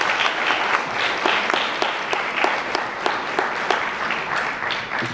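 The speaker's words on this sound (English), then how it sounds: "please give your families and friends a round of applause" A large crowd at a middle school promotion ceremony claps steadily, filling the space with dense, sustained applause at an even level throughout.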